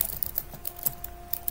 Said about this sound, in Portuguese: eu uso Ctrl B aqui no teclado para salvar o projeto com facilidade